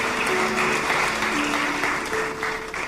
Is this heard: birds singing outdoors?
no